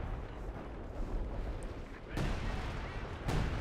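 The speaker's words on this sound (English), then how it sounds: "We have some artillery coming in, and it's coming in this sector" Artillery shells landing in the World War II strategy game Company of Heroes 2: a continuous low rumble of battle noise broken by two sharp heavy impacts, one midway and one near the end.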